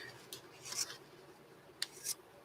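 Two quick pairs of crisp, close snips from scissors cutting quilt fabric, each pair a short soft slice, in a quiet room without talk.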